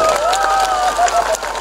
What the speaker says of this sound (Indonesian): Dan satu lagi tepuk tangan yang meriah untuk adik-adik kelas 1